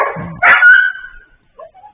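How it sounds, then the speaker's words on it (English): Dogs barking outdoors, a couple of sharp barks close together followed by fainter yips and whines trailing off, heard alone without talk. "what are those dogs barking at? Can you guys hear those dogs?"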